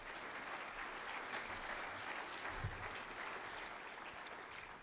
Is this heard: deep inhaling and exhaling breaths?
no